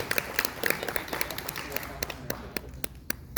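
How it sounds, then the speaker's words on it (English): Audience at the OMGcon 2024 opening ceremonies applauding a performer called up on stage, a dense patter of clapping with sharper individual claps and a whoop or two, fairly close and steady. "Thank you for applauding."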